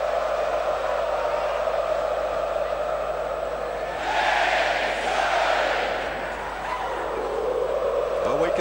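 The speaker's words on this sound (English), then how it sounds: "Well, we can see early how the crowd has erupted." A college basketball arena crowd at an Alabama–Arkansas game roars steadily, swelling louder midway, with a commentator's voice over the din.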